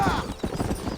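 Horse hooves clip-clopping at a gallop in the Red Dead Redemption video game, a steady rhythmic pounding under voices and a brief whinny-like tone at the start.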